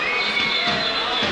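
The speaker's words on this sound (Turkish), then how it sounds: "Seyircilerin uğultusuna pek anlam verebilmiş değilim." A large crowd at a Turkish oil wrestling tournament in Balıkesir roars and murmurs in a dense, continuous wash of voices, loud and distant-sounding, with no single speaker standing out.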